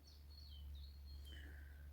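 Birds singing outdoors in a quiet spot, several thin chirps and short whistled phrases at a distance over a low steady hum, with no talking.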